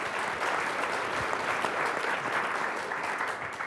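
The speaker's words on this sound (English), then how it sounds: "A big round of applause for them, please." Audience at a gallery talk applauds steadily, a dense, even patter of many hands clapping throughout with no talk.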